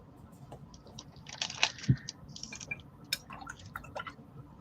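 A brush wets pink watercolour paint in a jar of dirty water, giving soft, scattered taps, drips and squishy dabs at close range in an otherwise quiet room.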